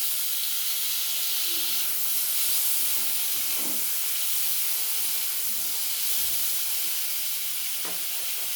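Chopped tomato hits a hot pan, giving a loud, steady hissing sizzle with a touch of steam and a few soft clinks.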